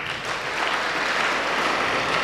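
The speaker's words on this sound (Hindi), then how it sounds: "जिसने भी बोला बैग में उसके लिए ताली बजाओ एक बार" A group of children claps together in a classroom, a dense, continuous patter of many small hands held steady for around two seconds with no talking over it.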